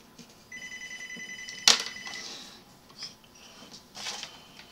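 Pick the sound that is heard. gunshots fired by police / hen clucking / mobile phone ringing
mobile phone ringing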